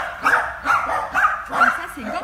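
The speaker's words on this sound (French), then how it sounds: "là on a les petits chiens et regardez ça" Small dogs at a circus rehearsal give four quick bright yaps at a fairly steady pace, fairly close, with a person talking underneath.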